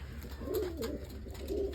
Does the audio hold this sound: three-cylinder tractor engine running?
no